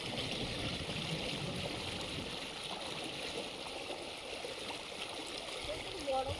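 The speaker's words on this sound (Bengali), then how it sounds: "কিন্তু খুব স্রোত, তাই না?" A strong river current rushes steadily where fish are being netted, a continuous broadband watery roar with faint gurgles, and low voices come through now and then.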